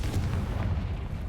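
A Confringo fire spell blast in Hogwarts Legacy lands as a dense, booming burst with a deep low rumble that fills the whole moment, loud and steady without a clear start or tail.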